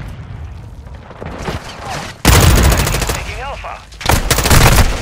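A frag grenade explodes in Call of Duty Modern Warfare II online Domination: a sudden loud blast cuts in, followed by rolling gunfire and a second heavy burst. A radio-style voice speaks briefly.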